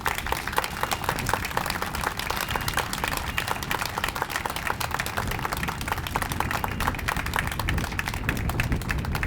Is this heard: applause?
yes